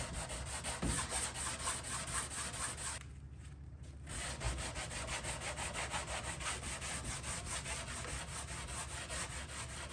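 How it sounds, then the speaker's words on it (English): Old furniture finish being power-sanded with 80-grit paper, a steady loud abrasive rubbing hum that runs throughout, briefly dropping in intensity for about a second before resuming. "So I'm just sanding at 80 grit"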